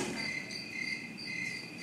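Crickets chirp in a steady, continuous high trill, close and fairly loud, with no other sounds, as a special effect on a studio effects stage.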